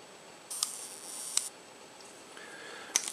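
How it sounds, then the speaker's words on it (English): A Minox B miniature camera set to a half-second exposure gives quiet, crisp clicks as the shutter opens and then closes, with a few other light mechanical ticks around them against a near-silent background. "the shutter is open, and then once you let up, shutter closes"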